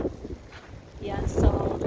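Strong blizzard wind buffets the microphone in gusty, rumbling bursts, loud and close, with a person's voice partly heard beneath it.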